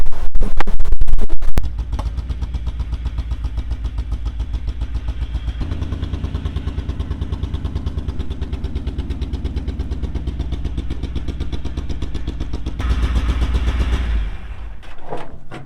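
A 1975 square-body dump truck's diesel engine labouring at low revs uphill, a steady loud chugging throb that surges briefly near the end, with no voices.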